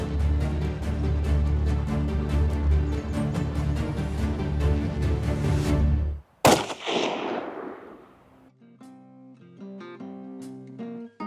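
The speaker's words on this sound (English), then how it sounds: "Reza, be ready with the follow-up shot." A single loud, close hunting rifle shot fired at a bear outdoors, cutting off steady background music and ringing out into a fading tail before quieter music resumes.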